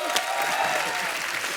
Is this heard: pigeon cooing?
no